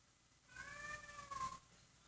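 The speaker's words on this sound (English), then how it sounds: "my big orange cat is just out there caterwauling" A big orange cat caterwauling outdoors, one drawn-out, wavering yowl lasting about a second, faint and somewhat distant against a quiet background.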